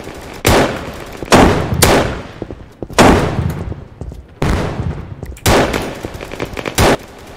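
Shotgun blasts in Battlefield 2042, loud booming shots about once a second, each with a sharp attack and a decaying tail, interleaved with smaller pops and clatter.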